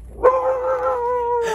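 A dog lets out a long, drawn-out howling bark that holds a steady whining tone for more than a second and ends with a short rougher burst, loud and close.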